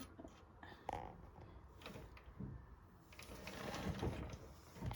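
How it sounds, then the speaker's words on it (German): An antique 1903 Singer mechanical sewing machine, foot-treadle driven, runs with soft mechanical clicking and whirring that builds steadily, faint and close, with no talking. "Und die Nähmaschine arbeitet jetzt auch."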